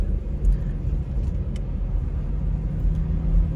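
A car drives along a snowy road in New York during a snowfall, a steady low engine and tyre rumble running close and unbroken throughout.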